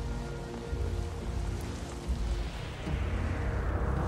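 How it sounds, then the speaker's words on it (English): Heavy rain pours steadily in a scene from the film The Rock, a dense, continuous hiss and patter with low rumbling beneath, growing slightly louder toward the end. "Rain always makes scenes very interesting, doesn't it?"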